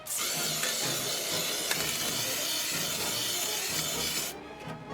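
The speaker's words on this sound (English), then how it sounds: "I'm taking cottage cheese containers, drilling holes in the bottom for drainage, and then I'm just spray painting them" Close, continuous spray hiss from an aerosol spray paint can painting plastic cottage cheese containers for about four seconds, then it cuts off, leaving quieter rustling.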